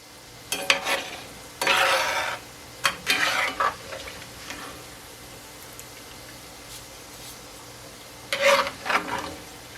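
Rice frying in oil in a pan, stirred and scooped from the bottom with a slotted basket for Mexican restaurant-style rice, giving bursts of sizzling and metallic scraping between quieter pauses; no talking.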